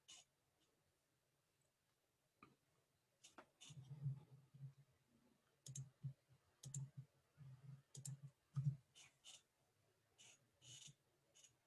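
Irregular bursts of soft clicking keystrokes, close and fairly quiet, coming in short clusters with brief pauses between them.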